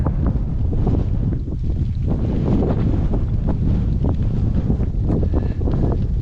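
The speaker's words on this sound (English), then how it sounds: "You know you got a headwind when you see the dust coming at you like that." Strong headwind roaring across the microphone of a gravel cyclist racing a dusty 100-mile course, a loud, continuous buffeting rumble with gusty swells throughout and no talk.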